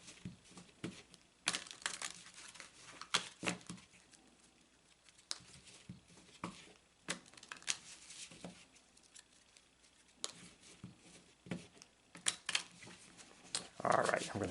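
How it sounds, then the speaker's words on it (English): Lenormand cards are shuffled by hand in quick, papery flicks and riffles, a steady run of soft crisp bursts close up, with a brief louder rustle near the end. "So I shuffle the question into the cards"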